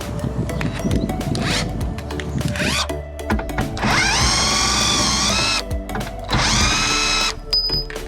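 An impact gun works loose the bolts on a Volkswagen Golf's rear suspension during a coil spring replacement, giving loud rattling bursts and a sustained high whirr of a few seconds close by, with no talk.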